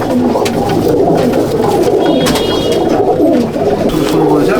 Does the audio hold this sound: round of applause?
no